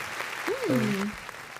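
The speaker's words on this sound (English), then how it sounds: "let's give a round of applause" Brief, fairly quiet applause from a small audience on a podcast set, with a short rising-and-falling vocal whoop riding over the clapping.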